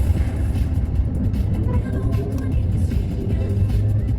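Jammed street traffic on a four-lane road partly taken up by parked cars, a continuous close rumble of idling car and bus engines with steady road noise throughout.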